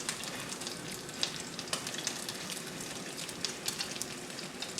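Guanciale frying in a pan, a steady close crackling sizzle with small irregular pops spread evenly throughout, heard alone.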